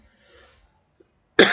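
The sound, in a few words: coughing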